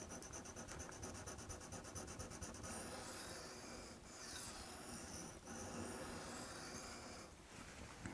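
Hunting knife sharpened on a coarse, soft Washita-type whetstone: continuous gritty rubbing strokes, close and fairly quiet, steady throughout with slight changes in tone.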